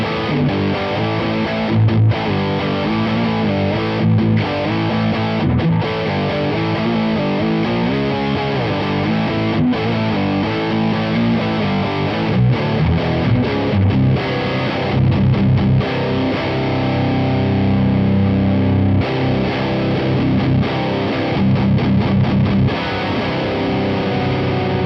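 Electric guitar through the dirty channel of a Genome amp plugin, dense distorted riffing with chugging rhythmic chords, loud and continuous from start to finish.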